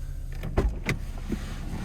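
A 2010 Mazda 3i power window motor whirs briefly, with short mechanical bumps as the glass moves, quiet against a low cabin hum.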